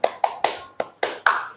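A class of students doing a rhythmic maths clap in a lesson: six sharp, separate hand claps in a quick, slightly uneven pattern, close and clear with no voices.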